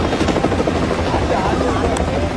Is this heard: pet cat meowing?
no